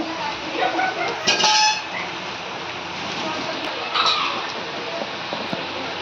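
Onion, turmeric and curry leaves stirred in a cooking pan for a Kannada chutney, a spoon scraping and clinking against the metal in short bursts, close and fairly loud.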